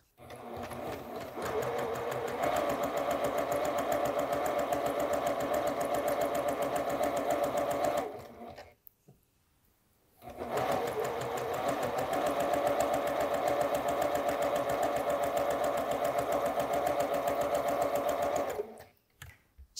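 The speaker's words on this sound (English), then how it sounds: "We'll do this the same way as before, sewing from the wide end to the narrow end." A sewing machine stitches a quilt block seam from the wide end to the narrow end, running in a steady, continuous whir for about eight seconds, pausing briefly, then running again at the same even pace.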